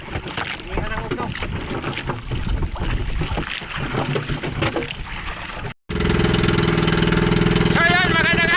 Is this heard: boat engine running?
yes